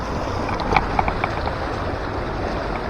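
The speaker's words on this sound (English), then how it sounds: "I hope you can hear me over the sound of the stream." Steady broadband rush of a flowing stream, continuous and fairly close, with a few faint higher clicks and splashes over the constant wash.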